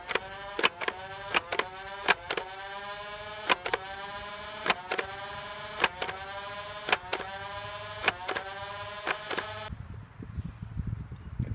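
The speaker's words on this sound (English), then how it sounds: "this is the World Tech Warrior firing standard elite darts" Standard Elite foam darts fire from a World Tech Warrior Renegade blaster in a fast, close run of about a dozen sharp mechanical clacks over a steady flywheel whine, which then cuts out into quiet.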